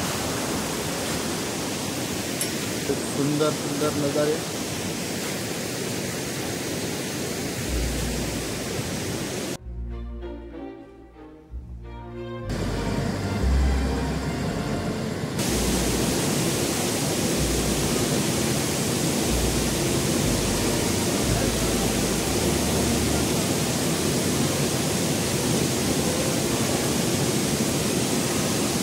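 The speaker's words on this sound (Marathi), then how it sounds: "आपल्याला भिवतास धबधबा किती जोराने वाहतोय" The Bhivtas waterfall near Surgana in Nashik pours forcefully as a dense, constant roar that fills the scene, broken by one brief drop around the midpoint. A voice speaks briefly.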